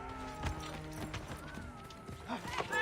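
Hooves from a horse in the video game Assassin's Creed III clip-clop at a quick, uneven pace, with a whinny over faint background talk and music.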